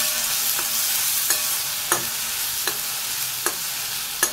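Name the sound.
frying and stirring masala with tomato paste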